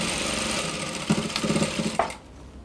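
A sewing machine stitching a folded half-inch hem on a kimono bubu dress, running in short, fast bursts of rapid needle chatter that stop and start several times, steady and close, with no talk.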